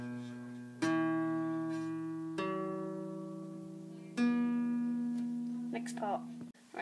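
Guitar strings plucked slowly from a song lesson: three or four separate notes struck seconds apart, each ringing and decaying clearly in a quiet room, with a brief fumbling of strings at the end.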